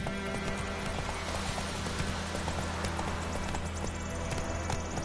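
Horse hooves clip-clop at a steady trot in the video game The Witcher 3: Wild Hunt, a continuous rhythmic patter at moderate loudness over game ambience.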